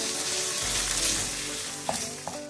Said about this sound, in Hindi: अब इसमें मैं चिकन डालूंगी। चिकन को भी मैं 2 से 3 मिनट पकाऊंगी